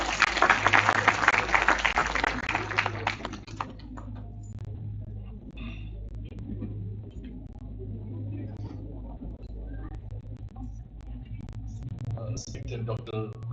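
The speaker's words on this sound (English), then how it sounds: "Welcome him with a big round of applause." Loud audience applause fills a college auditorium at a management-studies event in Kanpur for about three and a half seconds, then fades to a low hall hum with faint scattered sounds.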